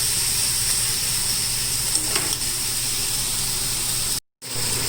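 Carne asada sizzles while it cooks in a steady, close, hissing crackle that continues with no speech, broken only by a brief dropout near the end.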